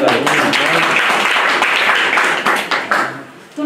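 An audience applauds with dense, steady clapping that thins out and fades in the last second.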